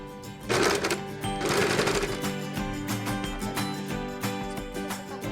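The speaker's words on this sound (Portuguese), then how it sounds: "E vou fazer mais uma costurinha reta." A sewing machine runs a straight seam, its needle clattering in a fast steady rhythm close by, with a brief louder burst near the start and continuous mechanical whir under it, no talking.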